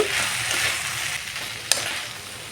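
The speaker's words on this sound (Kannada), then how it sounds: "ಬೆಂಡೆಕಾಯಿಗೆ ಅದು ಚೆನ್ನಾಗಿ ಫ್ರೈ ಮಾಡೋಣ ಇದು ಚೆನ್ನಾಗಿ ಫ್ರೈ ಆಗಬೇಕು" Salted okra (ladyfinger) fries in hot oil for an egg fry, a dense, close sizzle with a single sharp clack of a spatula against the pan partway through, no voices.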